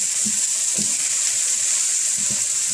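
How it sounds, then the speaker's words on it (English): Onions sizzle steadily in a hot pan for hibachi beef fried rice, a dense, continuous fry close up, with a few soft stirring knocks and no talking. "just slightly soft and slightly fried"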